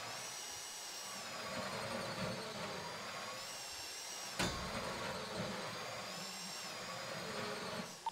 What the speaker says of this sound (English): I was in the middle of the drill thing.